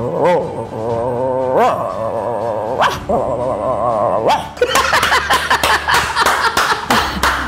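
A human voice mimics a larger dog barking, with a few drawn-out, throaty barks followed by a rapid burst of rougher, louder woofs, close to the microphone and with no speech over them.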